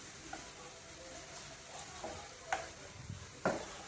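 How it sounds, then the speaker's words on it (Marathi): Small gram-flour fritters dropped into hot oil make a faint, steady sizzle, broken by a few brief crackling pops as more batter hits the oil, quiet and close. "असे व्हिस्कर बुडवून आपल्याला छोटे भजे तेलात टाकून घ्यायचे आहेत"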